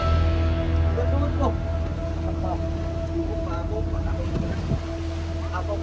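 A steady boat engine drones throughout with constant tonal hum on rough seas with strong waves, while wind and rushing water wash over the microphone; faint voices appear briefly.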